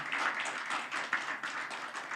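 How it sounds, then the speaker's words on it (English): Audience applause at a Model Legislative Assembly event, a steady stretch of many people clapping with a brisk, even texture at moderate volume, no voices rising above it. "We should give them a round of applause"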